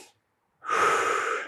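A deep breath drawn in during a jiu-jitsu hip mobility stretch, a steady breathy inhale of about one second that starts after a brief pause and is heard close and alone.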